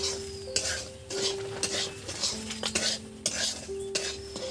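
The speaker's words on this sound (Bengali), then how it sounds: "এই সুজিগুলো আমি দিয়ে দিচ্ছি, যেটা ভেজে রেখেছিলাম।" Fried semolina stirred into a pan for upma: repeated scrapes and metallic clinks of a spoon against the pan every half second or so, close and alone, with a faint sizzle beneath.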